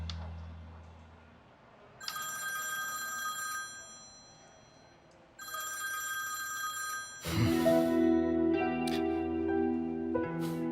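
A telephone rings in two long electronic bursts separated by a pause, followed by a louder, fuller ringing tone that continues near and clear with no talk over it.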